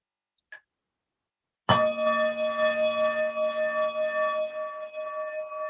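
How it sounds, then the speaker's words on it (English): A chime is struck in a church service, sounding as one clear metallic ring with a long, steady sustain that slowly fades. A single faint tap comes before it, and no one speaks. "we will ring our chime 3 times"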